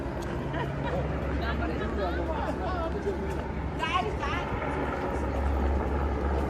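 Steady helicopter rotor drone running throughout a sightseeing flight over Lauterbrunnen valley, Switzerland, with voices chattering over it and a faint whine now and then.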